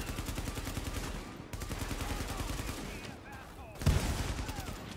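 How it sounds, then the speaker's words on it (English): Rapid automatic rifle fire in a Tom Clancy's The Division firefight, with dense bursts of shots continuing almost without pause and a heavier blast near the end, loud and close. "Who said you could shoot me from up there?"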